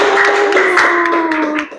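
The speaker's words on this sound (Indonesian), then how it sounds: "Tepuk tangan buat Dr. Anna Mariana." Brief clapping to welcome a guest on an Indonesian talk show: a handful of sharp hand claps over a sustained tonal hum, loud and close, fading out at the end.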